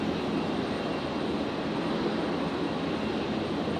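An airliner departing runway 32 at Brisbane Airport produces a steady, broad engine roar from the middle distance, holding constant throughout without any talk.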